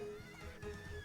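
A horse whinnies faintly in the distance, a thin, wavering cry that holds for about a second on its own.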